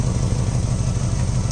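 A Mazda Miata engine idling roughly after a spark fix, giving a steady, close, uneven low rumble with a slight pulsing clatter throughout, no voices.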